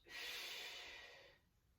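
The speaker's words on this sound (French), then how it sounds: "Inspirez avec le nez et expirez avec la bouche." Slow breath during a Pilates abdominal exercise, a long airy inhale-exhale rush lasting over a second, close and quiet, with no talk.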